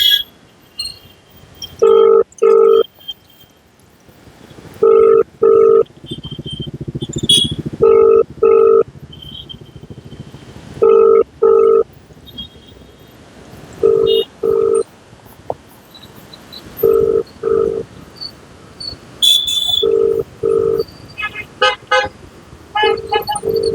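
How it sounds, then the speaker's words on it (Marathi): A telephone ringback tone on an outgoing call repeats in loud, evenly spaced double bursts, roughly nine pairs across the span, with faint background noise between them and no talking. "फोन रिंग होत आहे."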